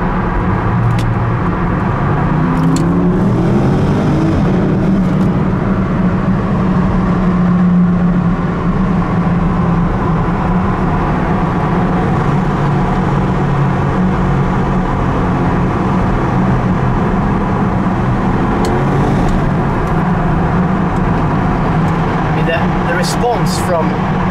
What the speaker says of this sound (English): Let's put on the engine now.